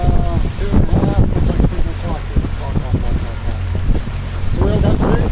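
A Yamaha VMAX SHO 115 outboard drives a 22-foot panga, a loud engine drone mixed with wind buffeting and water slapping against the hull, close to the microphone.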